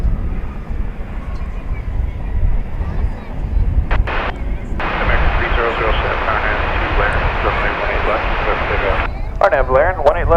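A Boeing 737-800 airliner at Dallas/Fort Worth Airport rumbles with a loud, steady, roaring jet engine noise, heard from a distance across the field, with an announcer talking over it.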